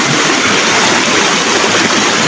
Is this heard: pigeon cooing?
no